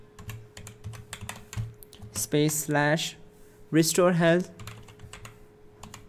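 Keys clatter in quick bursts as a command is typed on a computer keyboard, with a person talking in the middle of the typing.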